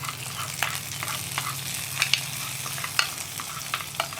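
Browned onions sizzle and crackle in hot oil as they go into a curry, with a steady frying hiss, stirring scrapes and a few sharper pops at close range.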